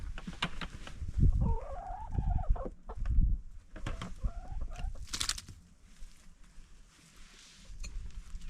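Chickens cluck and call near a coop at an Alaska off-grid cabin, with several bursts of fowl vocalizations rising and falling against faint outdoor background noise.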